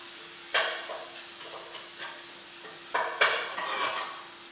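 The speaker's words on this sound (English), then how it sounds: "Right, I'll have a look at the onions. They just need another stir." Onions for spaghetti bolognese sizzle softly in a saucepan as a spoon stirs them, with a few sharp scrapes and clinks standing out over the low frying hiss; no one speaks.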